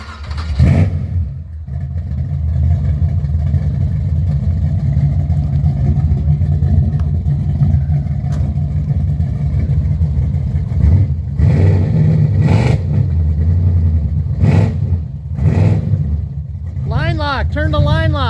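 A 1970.5 Ford Falcon with a built 327 V8 idles with a deep rumble and is revved several times in short bursts. People talk over the engine, and near the end a high warbling tone sounds.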